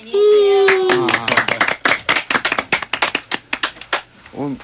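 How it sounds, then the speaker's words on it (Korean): Hands clapping in a radio studio, a run of sharp, uneven claps of varying strength that follows a short sustained tone, with voices murmuring faintly underneath. "그냥 박수만 치시고"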